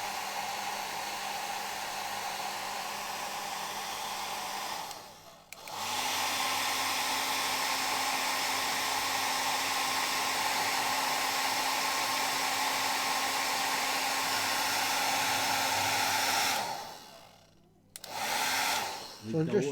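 A hair dryer runs loud and steady with a constant whine, cutting out briefly near the five-second mark, then restarting and running until it stops again, followed by a short final burst.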